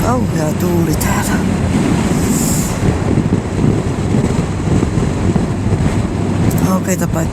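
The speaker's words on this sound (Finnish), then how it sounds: "Kauhea tuuli täällä." Strong wind gusting across a wide open field and marketplace area in Kilpisjärvi, a steady loud broadband roar buffeting the microphone throughout, with someone talking over it.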